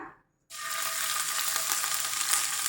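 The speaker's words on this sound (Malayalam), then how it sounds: "വെളിച്ചെണ്ണ ചൂടായതിന് ശേഷം നമ്മൾ ചതച്ച് വെച്ചിരിക്കുന്ന ഇഞ്ചിയും വെളുത്തുള്ളിയും പെരിഞ്ജീരകത്തിൻ്റെയും ആ കൂട്ട് ഇട്ട് കൊടുക്കാം." A crushed ginger, garlic and fennel paste hits hot coconut oil after a moment of silence, bursting into a loud, steady, hissing sizzle that continues evenly to the end.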